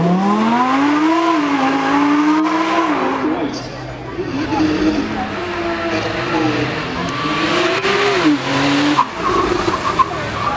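A supercar with a 5.2 litre V10 engine drives past at a supercar weekend run, its loud engine note rising and falling in pitch as it accelerates, under continuous commentary talk.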